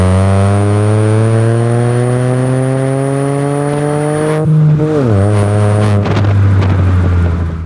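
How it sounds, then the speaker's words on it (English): Stage 3 tuned Hyundai N-Line pulling hard under acceleration, a loud steady engine drone with harmonics climbing, a turbo whistle on top, then a brief shift dip around five seconds before the note rises again, with wind rush throughout. "So first impressions of my new Stage 3 N-Line is that the spool is quite late and you can't miss the spool."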